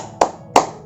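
Two sharp hand claps, evenly spaced, close and crisp against a quiet background.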